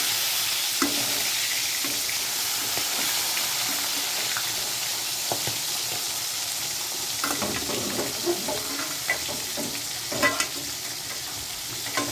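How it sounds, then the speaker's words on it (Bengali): Pangas fish sizzles and spits in hot oil in a pan, a constant frying hiss with occasional scraping and stirring clatters from a utensil. "তো আমি এখানে পাঙ্গাস মাছ ভেজে নিচ্ছি, আলু দিয়ে রান্না করব"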